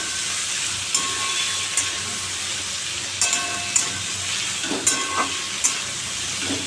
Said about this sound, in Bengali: আমি এখন এই তরকারিটা বসিয়ে দিলাম। গাজর ক্যাপসিকাম দিয়ে একটা তরকারি করছি